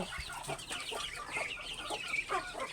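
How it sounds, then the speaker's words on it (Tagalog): Chickens cluck and chatter on a farm in short, busy bursts, fairly close, with several birds calling over one another at a low overall level, ducks also present. "Yung mga manok tsaka itik."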